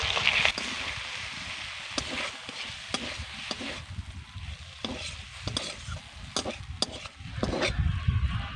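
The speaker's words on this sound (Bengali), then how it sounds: "গ্রেট করে রাখা ডিম আর আলু নিয়েছি সঙ্গেই দিয়ে দেবো এবার মশলার সঙ্গে ভালো করে মিশিয়ে নেব" Spoon stirring a grated egg and potato filling with spices in a pan, a steady run of scraping and clacking strokes over a soft sizzle, fairly close, with no talk.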